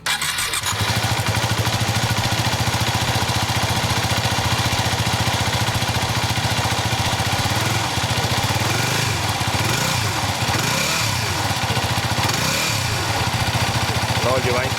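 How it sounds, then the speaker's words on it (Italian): A 2008 Yamaha WR 250R dirt bike's single-cylinder engine starts and settles into a loud, steady, rapid idle that runs close up without a break. "Adesso non ci resta che accendere la moto e provare."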